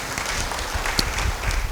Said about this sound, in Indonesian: Yang setuju beri tepuk tangan buat Tuhan.